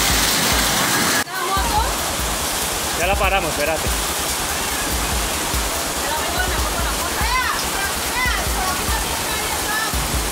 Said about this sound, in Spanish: hay que esperar que baje esa agua